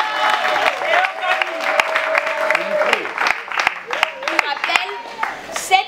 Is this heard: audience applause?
yes